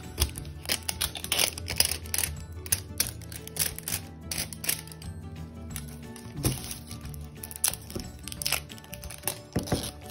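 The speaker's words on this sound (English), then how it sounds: "Just gotta peel that off now." Plastic seal being peeled and crinkled off a sealed toy package, with repeated crackling and tearing bursts up close, fairly busy throughout.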